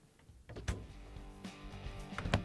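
Close, soft thuds and knocks as Samsung refrigerator doors swing shut, a few muted bumps over about two seconds.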